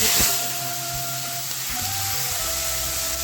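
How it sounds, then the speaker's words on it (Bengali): Small prawns, rubbed with salt and turmeric, sizzling in hot oil in a wok, a steady bright frying hiss with occasional crackles, close and continuous. "খুব ভালোভাবে চিংড়ি মাছটাকে ভেজে নেব"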